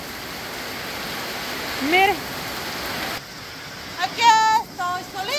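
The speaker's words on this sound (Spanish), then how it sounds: "Me gusta ver la lluvia. Las tormentas y todo bien bonito" Heavy rain pours during a storm as a steady, dense hiss throughout, and someone speaks briefly over it.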